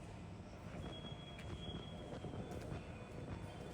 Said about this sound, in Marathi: आणि खाली आहे आपली मेट्रो लाईन,